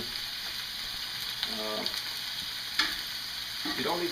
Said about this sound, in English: You take your sausage, and you throw that in the bottom.